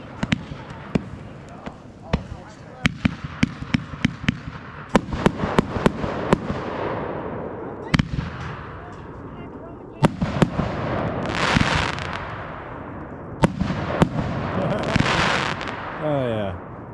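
New Year's fireworks going off outdoors: a rapid volley of sharp bangs and crackles, some near and loud, others trailing into hissing crackle and fizzing bursts, with voices faintly mixed in at times.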